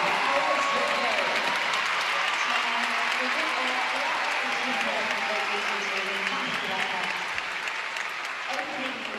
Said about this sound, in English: Well, Diane Dos Santos, listen to the appreciation.